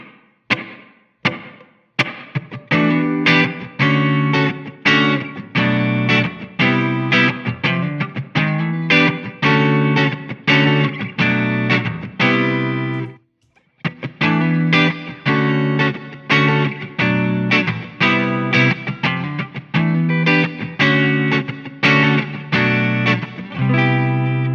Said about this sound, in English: the room, it's emulating a small space.